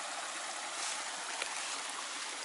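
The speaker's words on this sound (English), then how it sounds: "This is Curry Creek." Curry Creek along the Appalachian Trail, a steady broadband rush of flowing water that stays constant and fairly close throughout, with no voices.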